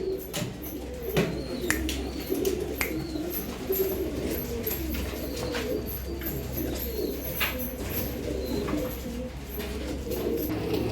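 Chinese female pigeon cooing, with repeated soft low coos close by over a steady background hum and occasional clicks and chirps from other birds.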